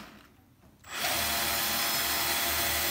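Power tool in a workshop starting up after a quiet moment, then running loud and steady with a harsh whining buzz while drill bits are being made.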